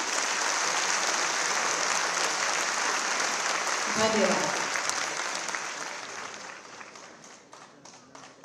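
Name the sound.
audience applauding at Gujarati cultural event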